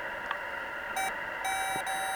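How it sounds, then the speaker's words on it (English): A power tester signalling negative polarity gives a thin electronic tone in short beeping bursts over a steady hum, fairly quiet and alone. "so you'll hear the negative tone."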